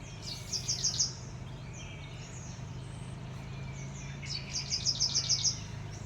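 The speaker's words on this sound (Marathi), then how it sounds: "मला पाखरांचा आवाज वगैरे कसं बरं वाटतं" Two bursts of quick, high bird chirps in rapid trills, one early and one later, over a steady low background hum, in a village garden in the morning.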